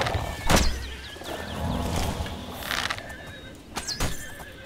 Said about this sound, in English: Here comes the horse again.